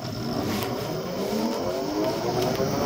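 A Phatmoto electric chopper motorbike, upgraded to a 5 kW motor, accelerates gently on light throttle, its rising electric whine sweeping steadily upward in pitch over continuous road and wind noise.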